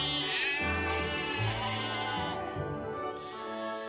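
A sheep bleats in drawn-out, wavering cries, close and clear, continuing for a few seconds with no talking.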